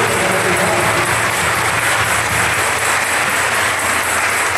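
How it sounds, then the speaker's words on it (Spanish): A parish church congregation applauds in a dense, steady wash of clapping that fills the whole stretch at full loudness, with no pauses or voices standing out. "Un aplauso para la parroquia que nos acoge."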